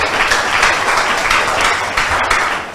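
An audience at a school debate breaks into dense, steady applause, a continuous wash of clapping heard up close for a few seconds.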